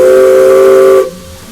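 A steam locomotive whistle sounds loud and close before the engine moves off, a steady tonal hoot lasting about a second that cuts off sharply into a hissing quiet.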